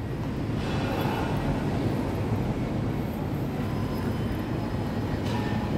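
Train rumble at Phaya Thai station in Bangkok, where the Airport Rail Link meets the SkyTrain; a steady, loud, continuous roar of rolling wheels and motors with faint high squeals, no talk.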